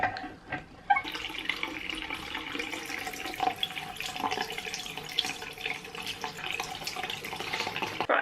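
Water runs steadily from a tap to dampen a makeup sponge for several seconds, a continuous close splashing hiss after a brief quieter start.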